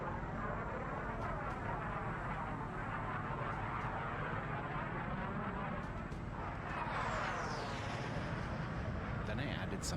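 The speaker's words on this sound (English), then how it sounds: "here's the jet sounds on their own." Jet aircraft flyby at the London Air Show, a loud continuous roar that swells and shifts in pitch as the jet passes, with voices faintly under it.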